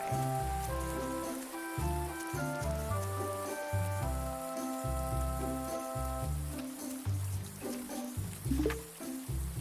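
Rain patters steadily across surfaces in the farming video game Grimshire, a continuous soft hiss beneath a gentle musical score with no talking.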